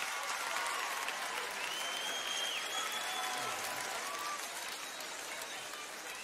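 Women in a stand-up comedy audience clap together, a steady, dense wash of applause from a large crowd that carries on throughout, with a few whoops and voices rising above it.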